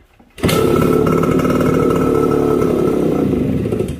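A Suzuki AX100 motorcycle with an ignition switch fault is cranked but won't start, giving a loud, steady mechanical drone close by that starts abruptly and holds evenly for several seconds.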